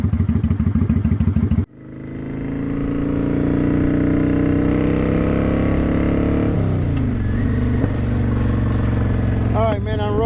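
Motorcycle ridden without a windshield: engine cuts in from a clattery idle, then pulls away with a loud, steady rising drone and wind rush, shifting gear near the end.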